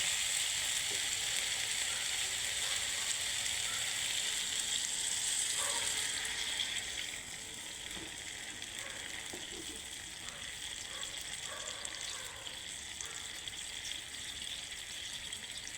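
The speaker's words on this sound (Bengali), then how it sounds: "এখন দিয়ে দেব পরিমাণ মতো পানি।" Spiced okra and potatoes sizzle steadily in a pan for several seconds, then the hiss drops and softens partway through as water goes in, leaving a quieter, bubbling simmer close by.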